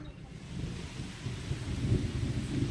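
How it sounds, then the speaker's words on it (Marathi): Sudden heavy rain pouring down outside a house, a dense, low roar of water with rumbling undertones, steady and building slightly louder, with no talking. "अचानक धडाडीचा पाऊस चालू झालेला आहे"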